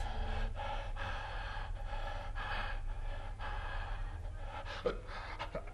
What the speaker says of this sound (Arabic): ترتفع أصوات أنفاس ميرزا النائمة يرتفع صدر ميرزا وينخفض في سرعة كمن يلهث